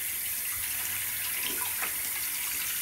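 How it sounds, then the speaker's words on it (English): Tap water running into a sink while hands are washed, a steady close hiss of flowing water with faint splashes throughout. "So I'm gonna go wash my hands right now."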